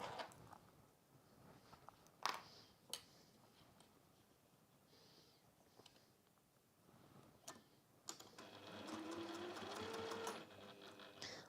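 A sewing machine bastes pieces of cork fabric together, starting with soft clicks and handling, then a steady close whirring stitch run for the last few seconds.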